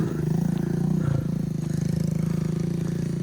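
A trail motorcycle engine chugs in a rapid, steady rhythm at close range, with clatter and bumps from a rough road damaged by a flash flood, between Muaro Aie and Ngalau Gadang, Pesisir Selatan, Indonesia.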